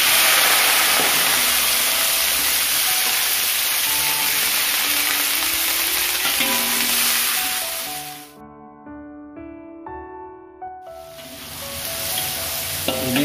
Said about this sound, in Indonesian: Bahan-bahan untuk sambal udang rebonnya kita goreng terlebih dahulu.